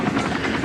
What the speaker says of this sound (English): Saucers arriving here have an affinity for military helicopters.